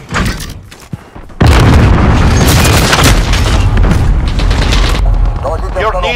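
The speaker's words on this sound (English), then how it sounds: "Enemy cruise missile." A loud, close boom from a cruise missile strike in a Shoot House Domination match rolls on in a sustained roar after a few sharp gunshots, with game voice callouts layered over it.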